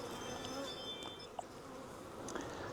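A calm swarm of honey bees buzzes steadily and close, a dense continuous hum with a brief louder flicker partway through.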